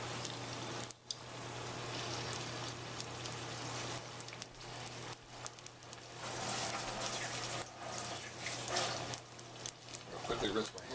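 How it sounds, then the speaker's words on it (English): Tap water runs steadily while hands are rinsed in a kitchen during fish and chips frying, a continuous broadband splashing with a low steady hum beneath and brief interruptions. "I'll quickly rinse my hands off."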